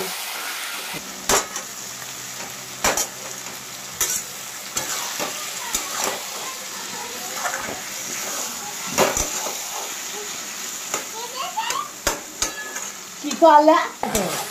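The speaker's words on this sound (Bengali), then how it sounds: "লোটে মাছের টুকরোগুলো দিয়ে দেওয়া হলো। এবার ভালো করে নাড়াচাড়া করতে হবে।" Pieces of lote fish (Bombay duck) frying in a pan for lote macher jhuri, stirred with a utensil: repeated scraping and clacking strokes against the pan over a soft, continuous sizzle, close and uneven in rhythm.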